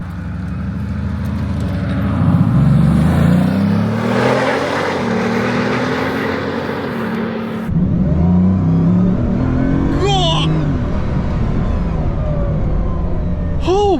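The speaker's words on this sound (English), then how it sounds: "that's a car making that noise?" A Bugatti Veyron engine revs and accelerates loudly up close, with rising and falling pitch sweeps, a brief cut, then more sharp revving bursts.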